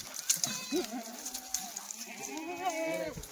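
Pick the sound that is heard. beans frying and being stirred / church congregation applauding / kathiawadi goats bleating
kathiawadi goats bleating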